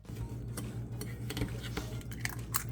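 Spoon or whisk scraping and clinking against a large bowl while white granulated sugar, brown sugar and melted butter are mixed for oatmeal raisin cookies, steady close-up stirring with light utensil ticks throughout.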